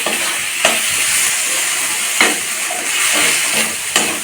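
Turmeric powder stir-fried with chicken skin in a Bengali-style curry, giving a steady loud sizzle and hiss with a few scraping stirs of the spoon, no talking.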